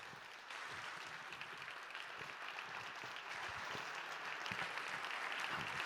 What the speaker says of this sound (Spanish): espero que lo recibamos con un fuertísimo aplauso a Eduardo Strauch